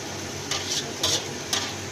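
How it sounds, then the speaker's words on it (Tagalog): Minced pork and tofu stirred slowly in a pan, the utensil scraping in three soft bursts over a steady background sizzle, close and fairly quiet with no talking. "kailangan haluin mo siya ng dahan-dahan"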